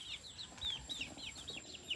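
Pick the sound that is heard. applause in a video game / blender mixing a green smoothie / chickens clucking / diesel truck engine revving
chickens clucking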